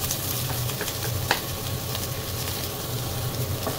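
White onion sautéing in a pan, a steady close sizzle and crackle with occasional soft stirring scrapes, no talk.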